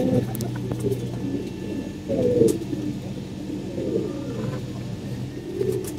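A pigeon coos in soft, low, repeated rolling calls, close by in a quiet setting.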